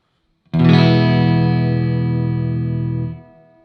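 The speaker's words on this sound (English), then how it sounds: "Reverb creates that kind of little echoey effect" A single electric guitar chord rings out through an amp with its reverb effect on, sustaining for a few seconds with a washy, echoing tail before fading.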